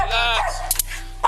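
A dog barks amid raised, overlapping voices during a chaotic scene where officers deal with the animal; the barks are brief and partly buried under close talk.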